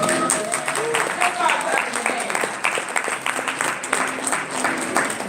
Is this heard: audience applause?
yes